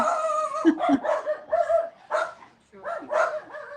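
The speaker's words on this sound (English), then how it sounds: "my dog's going nuts" Dog barking and yipping, several excited high barks and whimpering yelps coming in uneven bursts, fairly close, with some voice in the mix.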